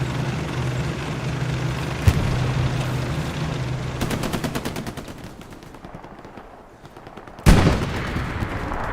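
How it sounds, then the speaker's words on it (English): Anti-tank gun firing at tanks during a sandstorm in a war video game, with a few sharp, loud gunshot blasts breaking through a steady rumbling battle din, plus a rapid burst of repeated machine-gun fire in the middle. "AT gun trying to hit these tanks, but I don't think the tanks see it"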